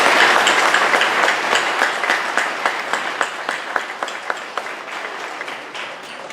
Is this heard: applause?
yes